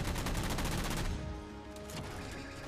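Rapid automatic gunfire from a Halo 4 match, loud and continuous in the first second, then thinning into scattered quieter shots with a lingering mechanical hum.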